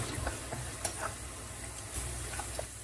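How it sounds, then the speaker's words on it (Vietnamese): Finely minced lemongrass frying in hot oil, a steady soft sizzle with light crackles and faint clicks running throughout, close and fairly quiet, with no talking. "Mình cho xả chiên vàng rộm luôn ha."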